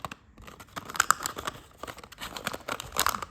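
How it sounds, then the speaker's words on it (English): Paper flap on a 12-sided foldable die is pulled aside and folded down, giving close, crisp crinkling and creasing sounds in short irregular bursts, quiet with no talk. "So I just pull it to the side and fold down the flap."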